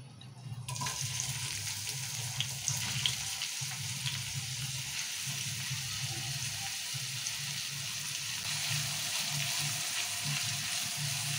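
Onions sizzle in hot cooking oil in a pan for an okra curry, a steady, close crackling hiss with a low rhythmic stirring rumble underneath and no voices.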